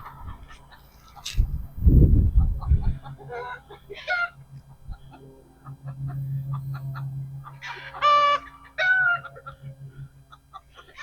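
Backyard chickens clucking in short bursts around a pasture line, with a loud thumping rumble early on and a low hum in between.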